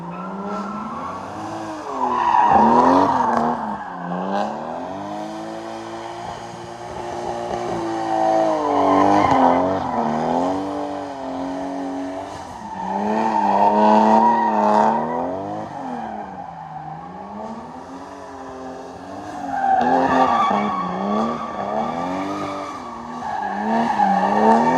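A car is driven on a short run around the block, with a loud, continuous engine note that rises and falls in repeated sweeps as it accelerates and slows, plus tire squeal and no talk.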